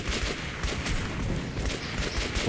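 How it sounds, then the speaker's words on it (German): Dense gunfire erupts from all sides in the video game Metro 2033 Redux, a continuous crackling barrage of overlapping shots and bursts at steady loudness. "Da kommen halt echt einfach Schüsse. Von überall."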